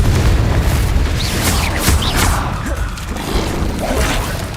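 Confringo explosion spell going off in the Hogwarts Legacy video game: a loud, dense booming blast with crackling bursts and whooshing debris, roaring continuously across the whole stretch amid combat noise.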